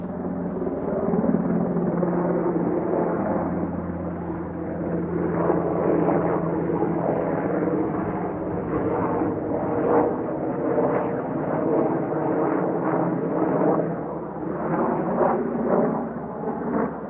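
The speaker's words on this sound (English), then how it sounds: "That looks like a Black Hawk." A military Black Hawk helicopter passes over Utah backcountry near military bases, a loud, continuous rumbling rotor roar that swells and eases slightly while it holds steady, heard alone without voices.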